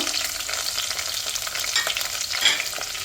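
Small shallots and curry leaves frying in hot oil for a prawn roast, a bright, crackling sizzle with steady stirring scrapes, close up and without pause.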